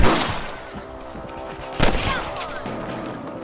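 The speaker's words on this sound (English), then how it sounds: "You're better at shooting rabbits than outlaws, I see." Gunfire in the western video game Red Dead Redemption while shooting rabbits: a loud sharp shot opens the clip and another cracks out near the middle, each with a ringing tail over steady outdoor ambience.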